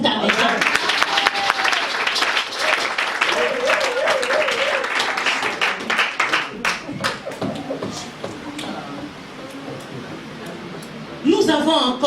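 A church congregation applauds and cheers in a loud burst of clapping mixed with shouts and voices, thinning out midway, then swelling again briefly at the end.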